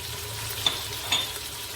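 Crushed ginger frying in oil in a pot for Hyderabadi haleem, a steady low sizzle with two brief sharper crackles of a spoon stirring, nothing else layered on top.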